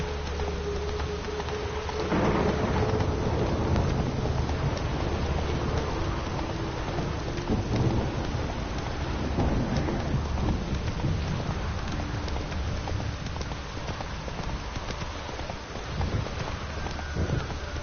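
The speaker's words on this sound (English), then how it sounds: "No use doing any work in this rain." Steady rain pours with rumbling thunder and gusting wind in a stormy outdoor scene in the video game The Witcher 3: Wild Hunt, a continuous wash of sound throughout with no talk.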